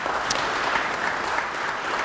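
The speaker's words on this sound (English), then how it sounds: "Give yourselves a round of applause," Audience applause at a college athletics Hall of Fame induction, a full steady roar of clapping from a large crowd filling the short stretch without pause.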